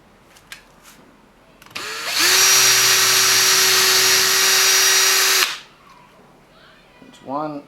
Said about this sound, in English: And then we can start the drilling.